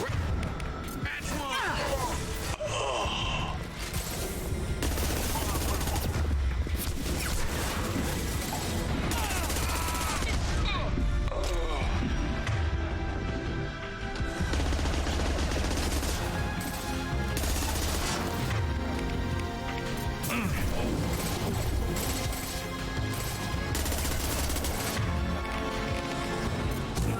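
A Mass Effect video game firefight plays out as dense, continuous gunfire and bursts of automatic fire with impacts and crashes, heavy throughout the clip, while voices talk over the action.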